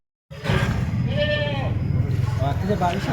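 Several goats bleat close by at a goat market in overlapping, wavering calls, with crowd talk running underneath throughout.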